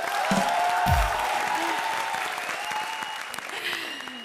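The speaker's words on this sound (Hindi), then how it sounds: "बजाओ ताली इसी बात पे" A comedy show audience breaks into loud applause, a dense clatter of many hands clapping that starts strong and slowly tapers, with a few brief vocal sounds mixed in.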